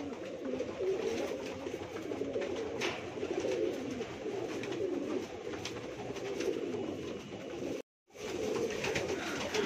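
A flock of pigeons in Mumbai coos in a steady, layered murmur, close and continuous, broken by a brief dropout near the end.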